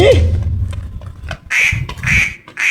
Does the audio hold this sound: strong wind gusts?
no